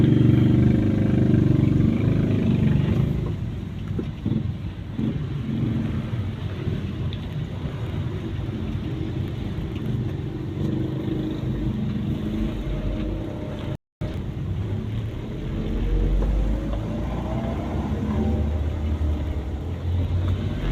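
A car driving along the road on the way to school, giving a steady, loud rumble of engine and road noise from inside the cabin, with one brief dropout partway through.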